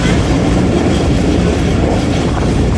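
An Awam Express passenger train running on track between Rawalpindi and Lahore in fog gives a loud, steady rumble and clatter of wheels on rails that continues without a break, with no talk.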